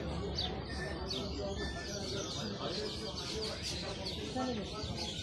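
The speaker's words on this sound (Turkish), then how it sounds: "Civcivler." Chicks peeping at an outdoor animal market, rapid high chirps repeating throughout, mixed with background chatter and people talking nearby.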